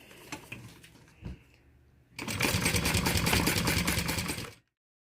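Sewing machine stitching a 1/8 inch seam all the way across fabric with long thread tails, preceded by a few handling taps, then running as a loud, steady close-up buzz for about two seconds before stopping abruptly.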